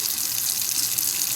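Water pours steadily from a reverse osmosis filter faucet mounted at a kitchen sink, a loud, even, hissing stream that runs without a break and with no other sounds.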